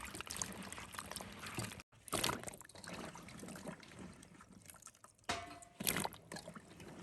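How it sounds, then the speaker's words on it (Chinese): Freshly picked hawthorn berries, pitted, are rinsed repeatedly in clean water, giving close sloshing, splashing and pouring with uneven surges and brief pauses and no talk. "全部处理好以后，放入清水中多清洗几遍。"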